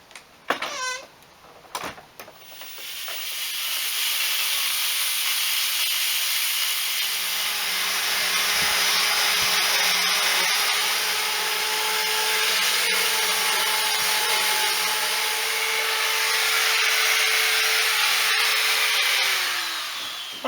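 A power sander works the edges of a pallet wood tool box, starting with a few knocks and clatter, then running as a steady, close, whirring grind with small shifts in pitch until it winds down.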